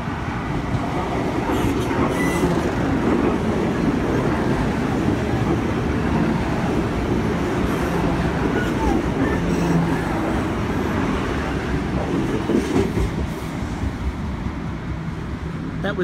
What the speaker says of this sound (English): was the Armidale Moray Explorer through platform 3 at Epping.